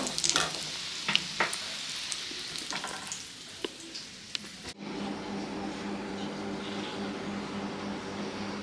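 Shrimp chops frying in hot oil, a steady sizzle that turns into a denser, louder bubbling hiss partway through, close with no talking.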